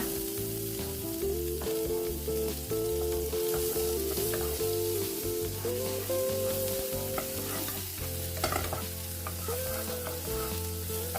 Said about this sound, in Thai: เมื่อผัดจนพริกกับกระเทียมมีกลิ่นหอมแล้ว